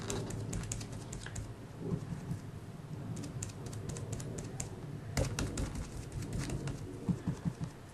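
A stencil brush is dabbed repeatedly on card while stenciling a dragonfly design, making quiet, irregular soft taps close by.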